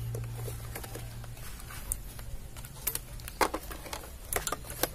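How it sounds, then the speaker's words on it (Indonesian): Light drizzle patters outdoors beside a Yamaha Vixion motorcycle, its scattered soft drops ticking irregularly over a low steady hum. "Ini sebenarnya mau hujan ini kawan, tapi masih gerimis."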